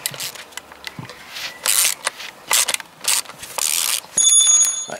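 An 8 mm socket on a ratchet wrench undoes the tight, Loctite-secured bolts of the clutch release bearing guide on a Peugeot 206. It gives close, bright clicking ratchet bursts with short pauses between them.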